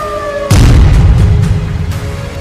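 A sudden loud boom opens into a long, rumbling roar during an Iranian missile attack on Tel Aviv, with a steady siren-like tone underneath before the blast and continuing after it.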